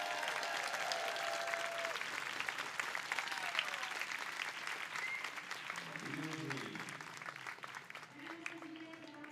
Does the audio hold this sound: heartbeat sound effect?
no